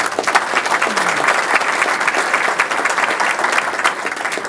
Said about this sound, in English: Can we please have another round of applause for all of our sponsors this morning?